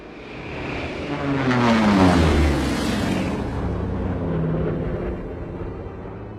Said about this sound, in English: I think that's our plane.